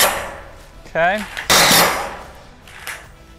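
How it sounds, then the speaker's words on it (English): An impact drill drives framing screws into roof panels for a shade cover over a goat and sheep pen, giving a short loud rattling burst outdoors; a brief word is spoken just before. "these impact drills make it super nice and easy"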